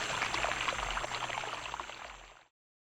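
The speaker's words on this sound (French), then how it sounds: "un ruisseau murmurait tranquillement" A forest stream babbling and trickling steadily at close range, fairly soft, with continuous watery gurgles that cut off abruptly near the end; no voices.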